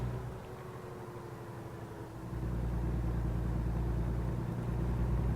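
Truck engine in American Truck Simulator, driving the Skot A2HD, a low steady drone that steps up in loudness and deepens partway through as the truck accelerates, with no voices.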